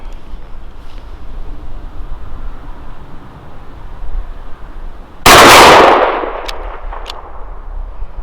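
A single loud shot from a Remington 870 Tactical 12 gauge shotgun cracks outdoors after several seconds of quiet background hiss, its boom decaying over about a second, followed by a couple of faint clicks.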